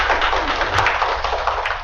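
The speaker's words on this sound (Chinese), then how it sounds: "掌声" A short, dense burst of clapping from a classroom audience at a lecture session, many hands applauding together at moderate distance with no talking.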